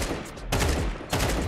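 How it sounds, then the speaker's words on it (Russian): Gunfire in the video game Counter-Strike 2: two loud bursts of rapid shots, separated by a short pause. "Хорошая стрельба."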